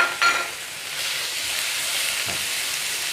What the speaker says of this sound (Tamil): நல்லா வதங்க விட்டுருவோம்